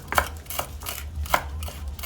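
A knife chops fresh parsley with its stems still on against a chopping board, giving a handful of crisp, irregular knocks close up over faint low background hum.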